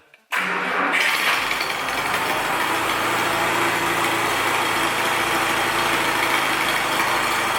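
A tractor's diesel engine cranks and catches after a brief quiet moment, then settles into a steady, loud rumbling idle that continues to the end.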